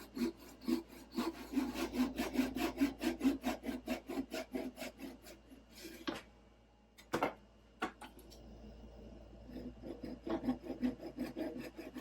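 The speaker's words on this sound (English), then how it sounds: "these are Japanese pull saws, and they're wonderful. They cut so nicely." A Japanese pull saw cuts through scrap wood with steady, rhythmic rasping strokes close by, pausing briefly mid-way with a couple of knocks before the sawing resumes.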